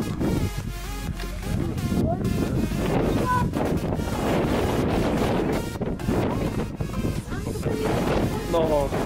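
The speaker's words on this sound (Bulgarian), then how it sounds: "Но, чуете ли духа?" Strong gusts batter the microphone on the summit of Snezhanka peak in heavy, buffeting rushes, with a person speaking briefly under the roar of the wind.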